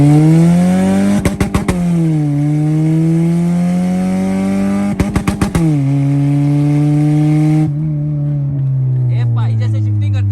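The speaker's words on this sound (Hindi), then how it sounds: "अब जरा गाड़ी का मांडा मार के चेक करते हैं कि पहले से आराम है कि नहीं।" A car engine revs hard during a test drive after repair work, its pitch climbing and dropping through several strong throttle swells with brief rattling bursts, loud and close, with no speech over it.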